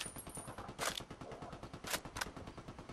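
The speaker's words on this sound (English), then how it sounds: "Oh shit, we got a bunch of green guys shooting." Rapid automatic gunfire from enemies in the video game Ghost Recon Wildlands, a dense rattling burst with a few sharper shots standing out over roughly three seconds.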